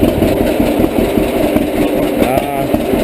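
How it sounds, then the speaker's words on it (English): A 1942 John Deere Model A tractor engine idles loudly nearby, its straight pipe giving a rough, steady, barking chug that doesn't let up. "I just have a straight pipe on this tractor. I like the bark of these old Deeres"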